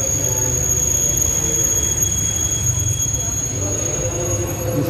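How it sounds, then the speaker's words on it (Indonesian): An executive passenger train rumbles and rolls steadily through Gondangdia station, Jakarta, with a faint high squeal from the wheels, a continuous mechanical roar under indistinct background voices. "kereta itu baru keluar dari stasiun Gambir"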